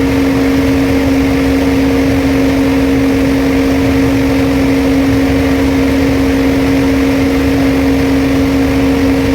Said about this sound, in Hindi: आप लोग देख सकते हो 1 मिनट में कितनी बार ड्रम घुमा है